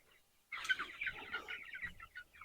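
Young chickens cluck and peep softly in a busy cluster, starting abruptly after a quiet moment and continuing at close range.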